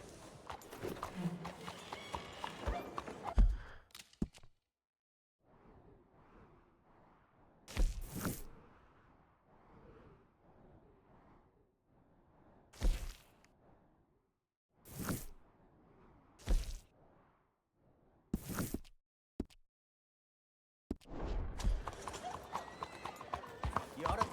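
Horse hooves clip-clop at a steady walking pace in the Red Dead Redemption 2 Western game, spaced thuds over a quiet backdrop, with brief speech at either end.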